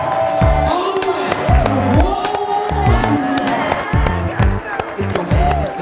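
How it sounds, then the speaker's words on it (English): A seminar audience on its feet claps and cheers loudly, a continuous wash of applause mixed with shouting and whooping voices. "the only way he's coming out here is if everyone stands up and starts clapping very loudly"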